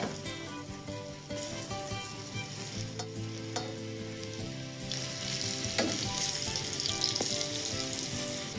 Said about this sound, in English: finish frying the eggplants, just like that